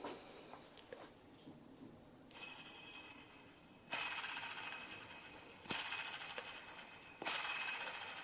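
A worn bearing from a Porsche 911 996 C4S alternator spun by hand, giving a soft gritty whirring rumble broken by a few sharp clicks and rising surges as it is flicked again, close up with no talk.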